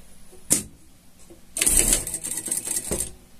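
A sewing machine stitching a pet harness, with a short mechanical clack, then a quick rattling run of stitches that stops and starts, fairly close and alone.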